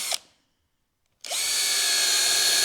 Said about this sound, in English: when you're using these tapered countersink bits that you can't drill too deep without stopping and clearing the threads